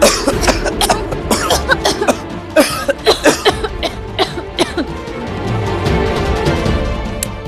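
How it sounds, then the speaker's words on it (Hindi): People cough repeatedly in a room, a long run of sharp, loud, close coughs in quick irregular bursts that thins out toward the end, with a murmur of background noise. "तुम दोनों इतना खांस खा रहे हो?"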